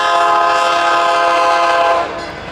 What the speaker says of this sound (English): That's the commuter rail train going past right above us.